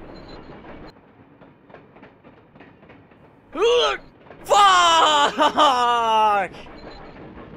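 Oncoming train in a video game, a loud groaning horn-like blast with rising harmonics, first brief, then a longer sustained wail after a pause, over quiet rumbling; a voice shouts briefly.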